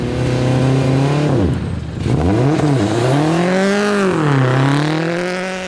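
A Subaru WRX STI rally car races along a winter forest stage, its engine roaring loud and close and rising and falling in pitch through repeated revs and gear changes.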